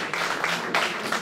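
Audience applause after thanks to an architects' union for hosting a talk on the city, a dense steady patter of many hands filling the short stretch with slight swells in intensity.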